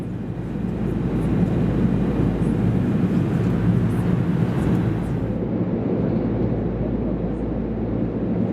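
Steady, loud broadband jet engine roar fills the cabin of an Alliance Airlines Fokker 100 in flight, heard from a seat beside the engine, continuous and even with no voices.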